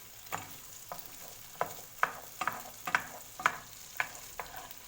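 Quiet sizzling of potatoes frying in a pan, with a series of scraping stirs and light clinks at an irregular pace, close by.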